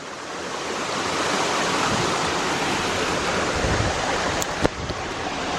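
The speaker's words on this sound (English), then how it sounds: "We're really trying to cross this river right here." A river flowing past a rock on a hiking trail at St Peters Village, a steady broadband rush of water close by and fairly loud, with a brief sharp knock near the end.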